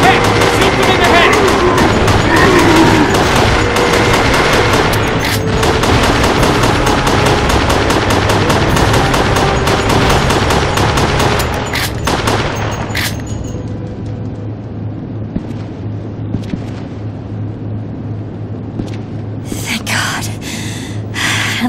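Resident Evil The Darkside Chronicles: rapid bursts of gunfire crackle against zombies amid a busy, loud game soundscape, with voices speaking throughout, then sparse shots and clatter as things quiet down.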